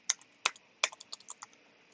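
Crisp keystrokes on a computer keyboard, about nine clicks over two seconds in an uneven, quick rhythm, with a few louder, heavier presses among them. Close and clear against a quiet background, with no voices.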